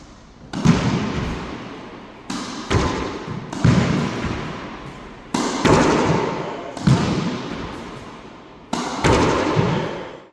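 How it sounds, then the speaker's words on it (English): A tennis ball struck high against the wall of an indoor racquetball court, giving six loud, echoing thuds spaced about every one to one and a half seconds, each with a boomy reverberant tail. "you can easily do this, hit the ball high on the wall"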